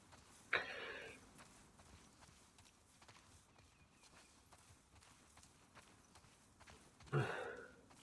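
In The Last of Us Part II, a horse's hooves clip-clop at a quiet walking pace, steady light thuds set against two louder sharp bursts near the start and end.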